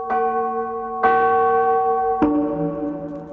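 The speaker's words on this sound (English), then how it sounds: "You should have heard the Hamelin people ringing the bells till they rocked the steeple." Church bells ringing in three separate resonant strikes, each tone lingering and overlapping the next, clear and fairly close.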